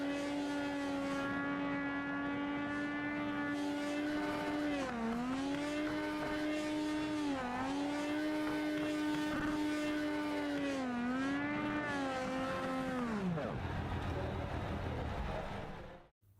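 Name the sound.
race car engines from the iRacing sim racing video game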